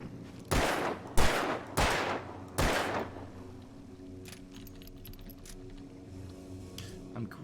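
Four sharp, loud gunshots from the game Alan Wake, evenly spaced about a second apart, followed by a quieter, lingering ambient tail.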